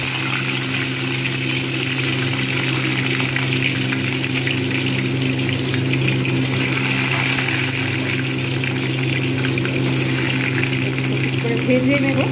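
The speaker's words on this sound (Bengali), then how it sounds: "কড়াতে সর্ষের তেল বসিয়ে দিয়েছি, তেল গরম হয়ে গেছে। এবারে আমি একটা একটা করে এতে মাছ ছেড়ে দেবো।" Rohu fish frying in hot mustard oil in a wok, a dense steady sizzle and hiss running continuously at close range with no talk.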